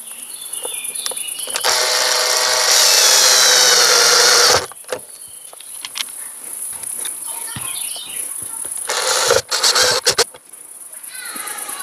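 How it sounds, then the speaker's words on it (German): A power screwdriver whirs in long bursts while a toilet cassette SOG odor-venting system is screwed in place from inside a camper, with clicks and handling noises between runs. "Die nehmen wir jetzt her und schrauben das von innen mal fest"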